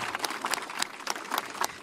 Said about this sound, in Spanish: Un voto de aplauso, por favor, fuerte para nuestra presidenta.